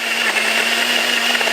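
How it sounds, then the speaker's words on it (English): A blender runs on high, blending hemp milk with a splash of vanilla extract, a loud, steady, close whirring drone without pauses or voices. "Once everything's in the blender, you're going to blend it on high for 1 minute."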